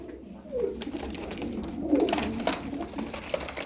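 Pigeons in a loft of Turkish game birds give soft, rolling coos, a few close calls rising over a continuous low murmur of the flock.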